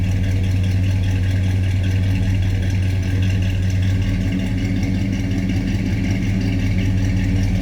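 A loud, close V8 idle from a 1968 AMC Ambassador burbles on with a deep, uneven rumble that holds steady throughout, no voices over it.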